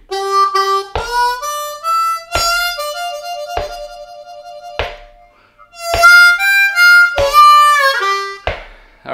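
A blues harmonica lick with a warble: crisp note attacks, some ringing out and decaying, others held with a wavering tone, played loud and close with brief gaps between phrases.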